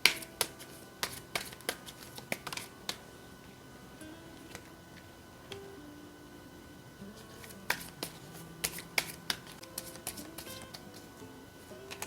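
Tarot cards are shuffled by hand in a quiet room, producing soft riffling and sharp intermittent clicks and slaps scattered across the whole stretch, close and fairly faint with no talking.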